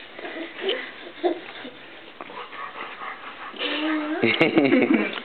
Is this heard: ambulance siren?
no